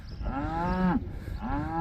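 Cattle on a pasture near a scratcher and salt and mineral block, giving two drawn-out moos, the first long and loud, the second starting after a short pause, close to the listener with no talk.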